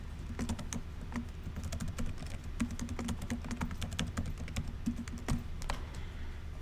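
Rapid typing on a computer keyboard as a password is entered, with a steady patter of close, crisp key clicks and occasional heavier keystrokes.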